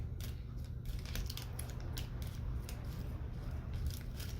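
Scissors snip at plastic toy packaging with a quick run of crisp, close clicks and cuts over a steady low background hum, no voices.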